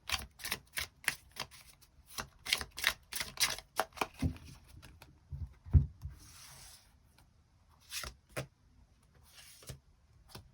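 Tarot cards are shuffled and handled for an extra draw, making a string of close, crisp flicks and rubbing riffles in irregular bursts, followed by softer sliding and a few final snaps.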